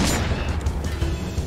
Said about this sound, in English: We just kind of just have to dodge their gunfire.